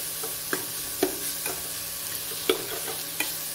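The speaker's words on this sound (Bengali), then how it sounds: "ডুমুরটা যখন ভাজা হয়ে যাবে কিছুক্ষণ নাড়াচাড়া করতে হবে" Figs fry in oil with onions, giving a low sizzle under about six distinct scraping stirs of a spatula against the pan at uneven intervals, close by with no speech.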